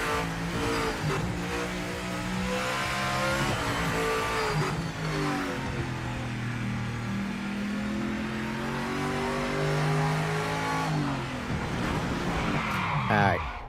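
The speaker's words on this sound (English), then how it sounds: "That is easily the best sounding car now. For LMDH." An LMDH prototype race car engine in the Project Motor Racing video game revs and shifts through gears for a long stretch, loud and continuous, with a tire squeal near the end and a voice talking over it.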